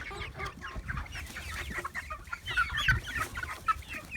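Young chickens in a wire pen cluck and chatter in a busy, overlapping stream of short calls, fairly close and moderately loud, with some faint rustling and no talking.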